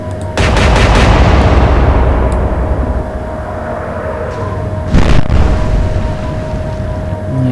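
Naval guns boom in the Atlantic Fleet video game, a loud heavy blast that rolls into a long rumbling tail, followed about five seconds later by a second distant crack, with no talking.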